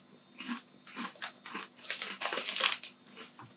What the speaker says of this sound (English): Let's go for a double crunch.